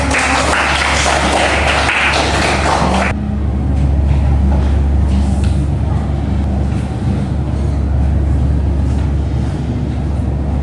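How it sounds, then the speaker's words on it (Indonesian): A class applauds a student group during a micro-teaching lesson on Islamic prayer. A dense burst of clapping fills the first few seconds, then fades into a low hum and a murmuring room. "Tepuk tangan untuk kelompok 2"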